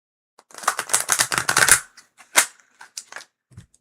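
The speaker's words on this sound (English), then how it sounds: "Okay, let's shuffle." Tarot cards riffled and bridged in a quick, loud burst of crisp flutters, then a few sharp isolated slaps and taps of the deck settling.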